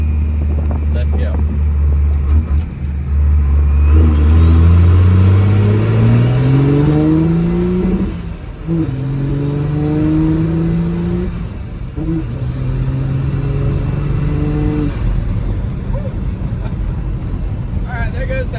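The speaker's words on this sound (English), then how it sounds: "I'm going to do 3rd to 4th to see what it has, but we're going to start in low RPM range and really feel it kick in" Tuned second-generation Cummins diesel pickup accelerating hard through the gears from low RPM, a loud, close engine note rising steadily with a turbo whistle climbing over it, dipping briefly at each of two shifts, with faint talk early on.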